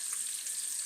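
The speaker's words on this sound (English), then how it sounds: "It's frying away." Steady hiss and crackle of pork-rind-coated Atlantic cod frying in bacon fat at about 327 degrees, a continuous close sizzle with no voices.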